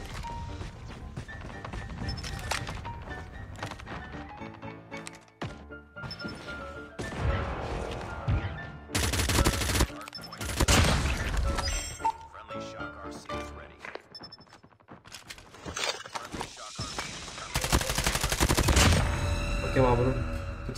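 Rapid bursts of Holger gunfire in Call of Duty Mobile, loud and close, with several sharp automatic volleys separated by brief pauses and crashing impacts; no one talks.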